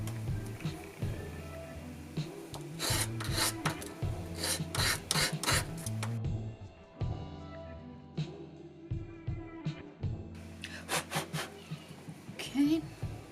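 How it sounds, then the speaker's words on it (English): Small wooden dowel rod pieces are sanded by hand in repeated rasping strokes, with bursts of rubbing and pauses between them; a voice speaks faintly at times. "Sand 2 dowel rod pieces"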